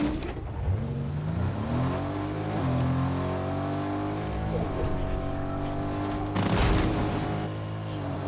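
A car engine revs in the battle royale game Fortnite, climbing through repeated gear-like pitch rises and drops, loud and close and sustained for several seconds, with a louder burst near the end.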